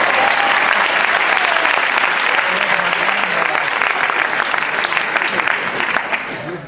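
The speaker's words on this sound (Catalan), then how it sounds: "Jo volia dir un gran aplaudiment pels tècnics de so, llums i càmera" Sustained applause from an audience at a premiere, honouring the sound, lighting and camera technicians, steady and full throughout before thinning slightly at the end.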